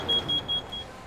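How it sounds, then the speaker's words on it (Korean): Carbon monoxide alarm beeping inside a closed tent holding burning charcoal, in a fire safety test: a thin, steady high-pitched tone that pulses several times in quick succession over a faint background hiss. "잠시 후 일산화탄소 경보음이 울립니다."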